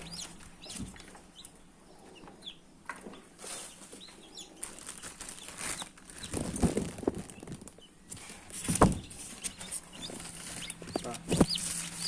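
A hen handed incubator-hatched chicks clucks amid bursts of flapping wings and scuffling, near and uneven, with louder flurries toward the middle and end and no speech.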